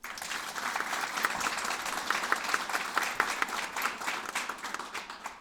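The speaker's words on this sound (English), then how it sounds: "Please join me in a round of applause." At a recognition ceremony, an audience gives a round of applause for a county education official, a dense wash of many hands clapping with individual sharper claps poking through, loud and sustained for several seconds.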